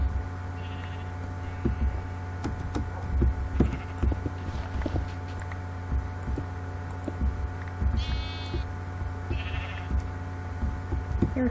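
Several short, synthetic-sounding sheep bleats from a video game pop up over a steady electronic hum, mixed with soft clicks and taps.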